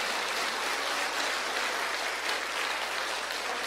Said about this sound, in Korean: 우리 하나님께 감사와 영광의 박수를 올려드린